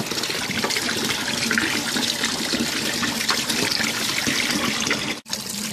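Cold water runs steadily from a kitchen tap while rice is prepared, a continuous splashing stream that holds even and close throughout, broken by one brief drop-out near the end.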